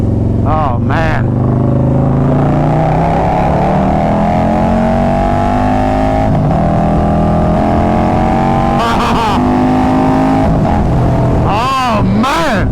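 A Harley-Davidson Road Glide motorcycle with carbon fiber wheels accelerates hard, its loud, close engine climbing steadily in pitch through the revs. A rider speaks briefly in short bursts over the exhaust roar.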